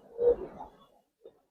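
A pigeon, one of the Giribaz coloring or racer birds, gives a soft low coo lasting under a second, then a brief faint second note. It is close and quiet, with no voices.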